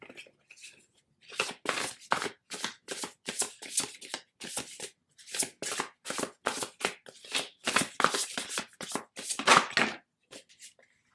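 Oracle cards shuffled by hand in repeated quick riffling bursts, close and fairly soft, with short pauses between rounds.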